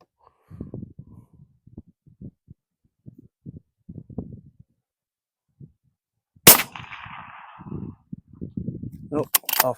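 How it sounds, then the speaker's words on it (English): A rifle fires off a barricade during a 500-yard shooting challenge: one sharp, loud shot with a short ringing tail cracks out after a stretch of quiet talking, and another shot follows near the end. "Got to come to the Barricade and shoot it off the Barricade for 5 rounds."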